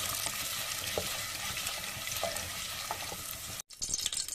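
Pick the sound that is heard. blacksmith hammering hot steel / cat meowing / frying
frying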